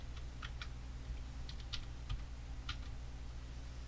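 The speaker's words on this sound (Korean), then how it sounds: "컴포지션 클릭한 다음에 위글이라고 타이핑을 해주실게요" A computer keyboard typing a short word into a motion graphics program: a few quiet, light key clicks in small clusters over a steady low hum.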